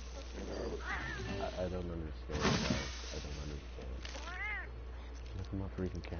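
A house cat meows twice at a moderate distance, with rising-falling cries heard under ongoing talk and game audio.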